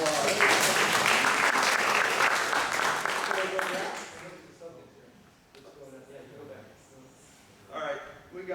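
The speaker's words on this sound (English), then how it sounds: "I think he deserves applause." An audience at a club meeting applauds, a dense burst of clapping for about four seconds that fades into scattered claps and quiet room noise, with a brief final swell.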